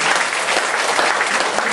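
A congregation at a church service bursts into brief, dense applause, loud and close, steady clapping with no pauses.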